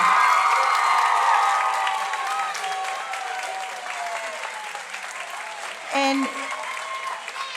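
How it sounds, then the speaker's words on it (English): An audience at a school arts night applauds steadily, clapping loudly at first and then easing slightly, with a brief voice or cheer rising near the end. "let's have a nice, huge round of applause for Mrs. Stover."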